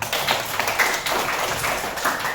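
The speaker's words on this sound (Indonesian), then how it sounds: "Tepuk tangan dulu untuk San." A classroom of students claps for a classmate after she answers a fractions question, a dense, steady patter of many hands at close range lasting a couple of seconds.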